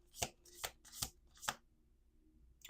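Four crisp bursts of cards being shuffled, evenly spaced, close and fairly quiet, with silence between them.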